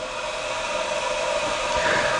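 An ST 270 spin rinser dryer runs smoothly, giving a steady whirring hum with an airy hiss, constant and fairly loud, with no voices.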